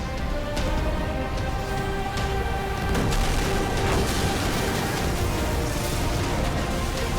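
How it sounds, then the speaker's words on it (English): Explosion in the video game Destiny during the Rise of Iron quest, a sustained loud booming rumble with sharp blasts and dense crackling layered throughout. "Escape the explosion."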